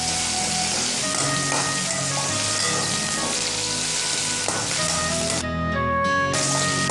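Shallots sauté in a pan with curry leaves, giving a steady, dense sizzle and crackle that runs throughout without pause.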